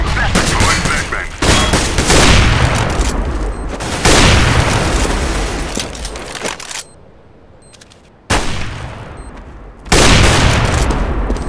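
Grenade blasts, a flashbang and gunfire in Counter-Strike, a series of loud booming explosions and bursts of shots in quick succession, with voice callouts in between.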